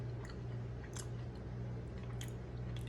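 Someone chewing a freshly baked chocolate chip cookie with a crunchy outside and a chewy middle, made in a Cuisinart air fryer toaster oven. Close, moist chewing and crunching come in an irregular rhythm over a steady low hum, with no talk.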